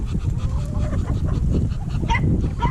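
A duck being fed alongside other poultry honks and quacks in close, repeated bursts over a busy farmyard background of scuffling and other fowl calls.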